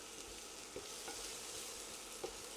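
Garlic and dried thyme frying in a pan while being stirred, a steady close sizzle with a few soft scrapes of the spoon, no talking.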